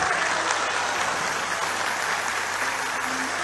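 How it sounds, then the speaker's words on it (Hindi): Steady, dense applause from a large audience at a poetry recital attended by dignitaries, a continuous wash of clapping hands with no talk over it. "आपकी तालियां कम है इसलिए सुनाने का मन नहीं कर रहा।"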